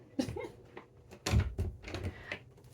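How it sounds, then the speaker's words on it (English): A door swings shut with a few knocks and thuds, followed by a soft latch, nearby and moderately loud. "we're gonna close the door until we're done."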